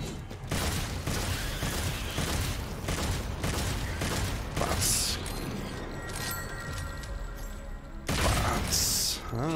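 Rapid gunfire and booming explosions from Devil May Cry 5 gameplay come in loud, repeated bursts, including a charged shot, over dense game noise and music.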